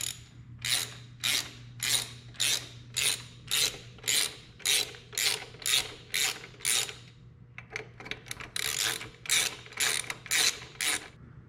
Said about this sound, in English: we're going to bolt it on and then we'll hook up the linkage